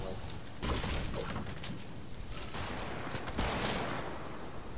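Dense, loud gunfire from a Fortnite match, a continuous wash of shots and impacts with a couple of heavier bursts standing out, crowding the sound throughout.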